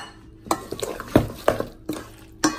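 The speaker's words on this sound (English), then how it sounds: "So you got your onions, two eggs, and you keep mixing." Salmon patty mixture with onions and eggs is stirred in a bowl, giving soft, wet mixing sounds broken by several sharp clinks of a utensil against the dish, with no talking.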